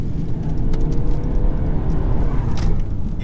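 A 2018 Mercedes C300d cabriolet with a 2.0-litre diesel engine accelerating on the road, a loud, steady low engine drone with rising tone and road rumble heard from inside the car.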